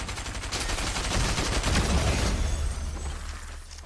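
Rapid gunfire in a first-person shooter video game, a dense burst of repeated shots that stays loud for several seconds and then thins out, with no talking.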